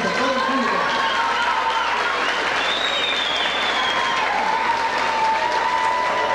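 Sustained applause from an audience at an anniversary celebration honoring the folk dance group Nobleza de Aguililla, dense steady clapping with a few whistles rising above it, running loud throughout.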